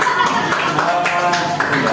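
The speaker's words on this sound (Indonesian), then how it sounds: "tepuk tangan dulu buat kelompok" A classroom applauds a student group after their presentation with close, dense clapping and faint voices mixed in.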